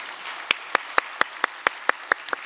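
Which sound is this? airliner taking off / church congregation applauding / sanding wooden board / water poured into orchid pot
church congregation applauding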